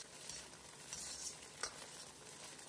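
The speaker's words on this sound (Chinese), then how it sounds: "油热以后把鸡蛋下锅快速炒散" Eggs hit hot oil in a wok and are quickly stir-fried, giving a continuous close sizzle with brief scraping strokes and no talking.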